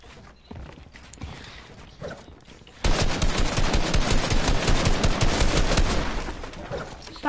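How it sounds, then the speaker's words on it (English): Rapid automatic gunfire from a Fortnite-style video game erupts suddenly and continues in a dense, loud barrage, after a quieter stretch of softer game noise. "Stop shooting me"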